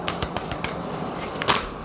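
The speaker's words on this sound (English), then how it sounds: "So just bear with me. I'm just shuffling here" A deck of tarot cards is shuffled by hand nearby, producing a quick run of crisp riffling bursts and flicks in an uneven rhythm, with no talking.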